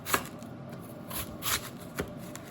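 A cutting machine slices cabbage for sauerkraut in a kitchen, giving a few soft, close swishing and rustling strokes at uneven intervals against a quiet background.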